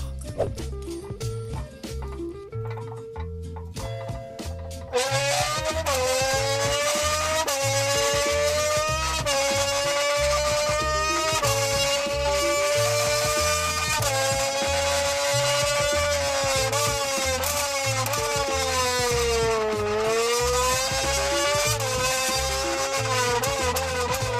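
A young man mimics a Formula 1 car engine at full speed by using a Monster energy can, producing a loud, continuous buzzing whine with pitch sweeps like gear shifts. It starts after a quieter opening and holds steady for about twenty seconds.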